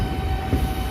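A DEMU train on the Siliguri to New Coochbehar line via Lataguri rolls into a station, giving a steady low rumble with a faint sustained hum, close and continuous through the short moment.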